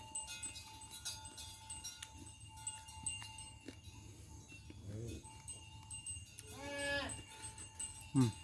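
Cow on a farm lows for its calf, a couple of drawn-out moos rising near the end, with faint cowbell clinks and quiet rural background noise throughout.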